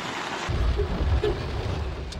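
Heavy, steady rain pours down during flooding in Lamitan City, Basilan, a dense continuous roar with deep low rumbling, loud and close, with no voices.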